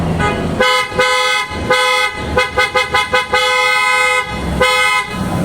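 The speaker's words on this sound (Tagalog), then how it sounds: "Testing natin ulit yung horn ni Sir." A loud, bright PIAA-style horn on a Toyota Hilux blares in long sustained blasts, then a quick series of short staccato toots, ending with more long honks.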